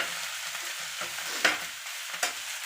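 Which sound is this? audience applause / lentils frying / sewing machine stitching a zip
lentils frying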